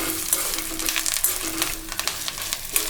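Sliced radish sautés with ginger and garlic in a pan for chutney, a steady close sizzle and crackle with scattered stirring scrapes, no voices.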